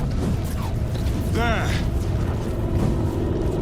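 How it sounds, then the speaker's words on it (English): Spaceship engines in the video game Warhammer 40,000: Space Marine 2 give a steady, heavy low rumble throughout, with a brief voice and a short rising mechanical whine partway through. "I hear engines."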